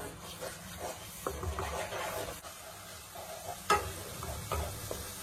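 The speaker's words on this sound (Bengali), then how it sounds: "তারপর আমি ভালো করে মশলাগুলো কষিয়ে নেব।" Ground spices, including red chili powder and turmeric, are stirred and sautéed in a hot pan for vegetarian dhokar dalna, giving a steady sizzle broken by scraping stirs and a sharp clank, with no talking.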